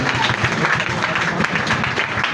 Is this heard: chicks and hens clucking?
no